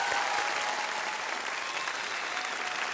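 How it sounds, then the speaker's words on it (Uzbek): A studio audience applauds steadily at the Uzbek TV singing contest Ovoz, season 2: a dense, even wash of clapping that holds at full strength for about three seconds without breaks. "Sizga olqishlab qo'yamiz Anvar Jo'rayev."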